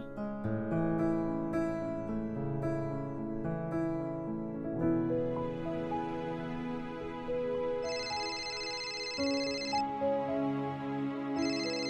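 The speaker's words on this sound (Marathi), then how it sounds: "आईचा फोन आहे." A phone ringtone playing a tuneful melody fills the room, steady and fairly clear, with a brighter high chime joining near the end; the call comes from the mother.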